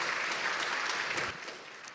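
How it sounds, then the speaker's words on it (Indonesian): A church congregation clapping together in a brief burst of applause that softens after a moment. "Kasih tepuk tangan yang meriah buat Tuhan."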